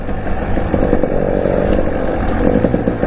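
A 2019 KTM 300 EXC TPI two-stroke dirt bike rides at a steady, moderate pace, its loud, raspy engine buzzing continuously close by with small throttle swells and no talking.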